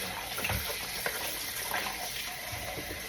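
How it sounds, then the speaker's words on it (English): Steady running hot tap water splashing and gushing over oxtail, with faint clunks of the meat being handled under the stream. "I run it through hot water and make sure it is well nice and clean."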